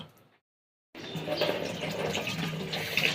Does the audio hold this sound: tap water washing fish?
yes